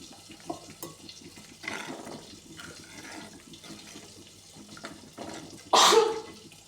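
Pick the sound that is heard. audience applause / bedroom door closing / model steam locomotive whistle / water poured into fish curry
water poured into fish curry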